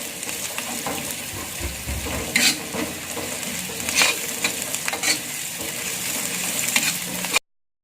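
Chili and torch ginger flower sizzle and scrape in a hot frying pan as they are stirred, with intermittent clatters of a utensil against the metal.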